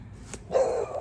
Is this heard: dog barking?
yes